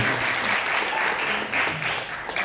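An audience at a speaker event applauds a guest, dense sustained clapping from many hands filling the room, with a voice faintly underneath.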